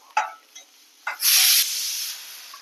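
Onions and tomato sauté in a hot pan for a kuzhambu, with a couple of utensil clicks before a loud sizzling hiss erupts and keeps going, easing slightly.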